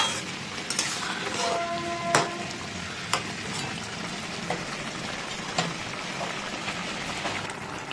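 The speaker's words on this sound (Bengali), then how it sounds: "এবার করে দেবো ভালো করে মিক্স।" Shrimp and tender vegetable stalks being stirred in a curry pan over high flame: a steady, dense sizzle and bubble with occasional spatula knocks against the pan, close by, with no voices.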